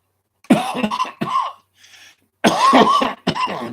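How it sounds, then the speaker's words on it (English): A person coughs in several harsh, close, loud fits, with a short pause between bursts. "This shit's making me cough an awful lot."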